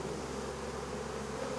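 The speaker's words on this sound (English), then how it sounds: "I'm going to shake all of these bees into this box." A dense, continuous buzzing of many bees being shaken into a box during a bee rescue, loud and close, droning without a break.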